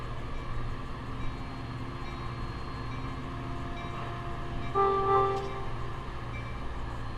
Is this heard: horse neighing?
no